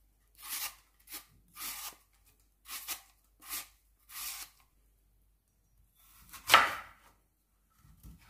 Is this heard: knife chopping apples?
yes